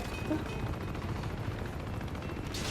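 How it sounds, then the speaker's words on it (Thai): Fast, continuous rotary gunfire from Uncharted 2 rattles on without pause, fairly quiet and muffled, like weapon sounds from a game. "นี่มันเสียงปืนโรตารี่"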